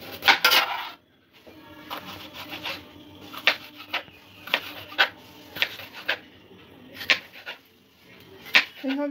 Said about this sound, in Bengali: ক্যাপসিকামটা একটু কেটে নেব।